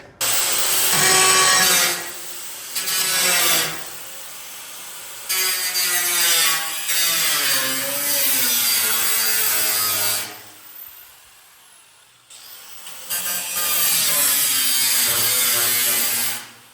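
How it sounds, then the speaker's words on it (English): A small battery-powered angle grinder runs loud and close in several sustained bursts with brief pauses between, its whine steady while it cuts or grinds; no talking. "let's try the small grinder"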